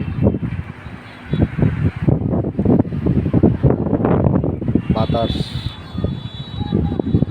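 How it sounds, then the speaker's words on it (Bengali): Strong, gusty wind blows under darkening clouds ahead of a storm in Gazipur, buffeting the microphone with a rough rumble beneath a person talking throughout. "বাতাস চালাইছে অনেকটাই।"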